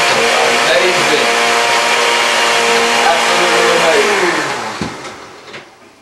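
A kitchen blender whirs steadily as it blends homemade milk. The motor is loud and close with a harmonic whine, then spins down and fades over the last two seconds, with a few clunks as it stops.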